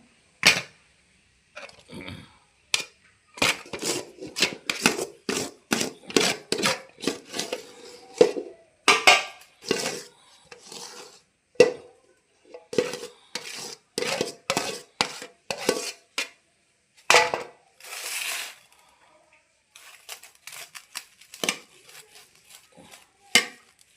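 A spoon stirring chicken cutlet potato masala in a pan gives close, irregular bursts of scraping and clinking against the metal, in quick uneven strokes with short pauses between them.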